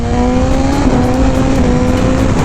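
A BMW S1000RR sport motorcycle pulls hard under acceleration on a highway with its quick shifter, giving a loud, close, sustained engine drone with a steady pitch and no voices.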